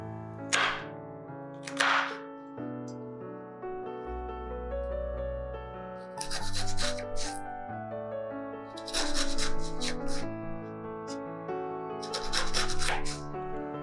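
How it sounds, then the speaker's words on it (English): A knife slices celery stalk on a cutting board, with a few sharp taps early on and then quick clusters of chopping strokes, all under steady background music. "I'm cutting the celery stalk lengthwise while using a bridge hold, then slicing it into small pieces"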